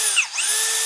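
A Keelat KCD015 18V cordless drill driver runs for a brief, close, steady whine whose pitch dips and then climbs back, heard alone.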